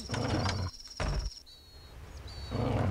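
A wolf roars in the video game Démons et Manants, heard as loud, rough growling bursts that break off and return, with a thin high electronic tone running through the middle and no speech.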